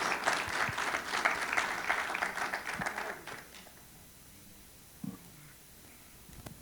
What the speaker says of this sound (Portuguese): levanta a mão e aplaude Jesus